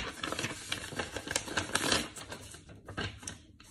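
A pen or marker writing a number by hand during a place value lesson, a quick series of scratchy strokes and taps, close and fairly faint, alone without talk.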